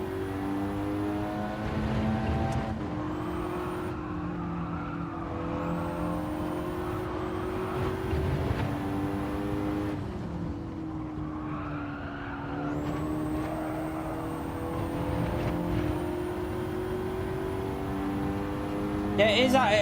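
A car engine in Gran Turismo 7 drones loudly and continuously, with revs climbing in sweeps and dropping at gear changes as the car is driven through corners.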